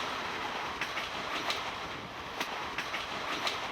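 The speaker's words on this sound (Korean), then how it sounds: "기차는 희미한 역사의 기억을 찾아 달려간다." A train runs steadily along rails, a continuous rumbling roar with faint rhythmic clicks from the wheels, heard from inside or close by with no voices.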